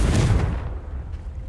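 A Confringo fire spell blasts in Hogwarts Legacy, a short, heavy, muffled boom that dies away within about half a second.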